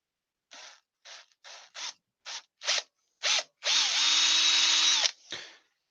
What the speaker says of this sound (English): just drill a hole at an angle at the back here